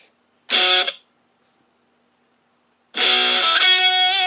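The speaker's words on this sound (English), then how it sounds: "It's just an amp simulator from my MacBook Pro, coming straight from the speakers, so it sounds pretty tinny and weak" An electric guitar runs through a laptop amp-simulator distortion and plays out of small speakers, giving a thin, buzzy tone. A short distorted chord is followed by silence, then a longer sustained chord with ringing overtones.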